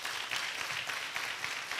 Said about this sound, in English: Let's clap again to welcome them.